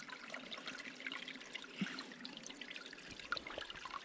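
A small stream of water trickles close by during an outdoor sika deer hunting trip. The steady, gentle burble goes on without a break, and no one speaks.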